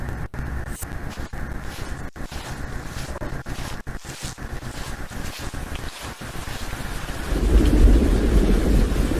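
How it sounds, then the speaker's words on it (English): Thunder rumbles over steady rain throughout, the downpour growing heavier and louder toward the end with no voices present. "I think it might just thunder."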